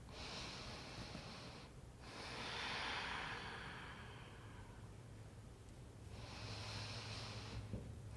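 Slow, quiet yoga breathing, with soft airy inhales and exhales in long even cycles against a faint background hum and no talk.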